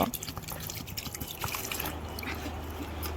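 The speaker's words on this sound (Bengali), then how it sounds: "এখন আনারসগুলো একটু জল দিয়ে আমি ধুয়ে নেব" Water splashes and drips steadily as cut pineapple pieces are rinsed in a bowl, a close, continuous wet trickle with no talk over it.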